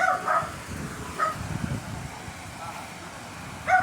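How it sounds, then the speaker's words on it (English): A few short, high yips from a small dog, scattered and somewhat distant, over a steady low rumble of background noise. "I hear a puppy."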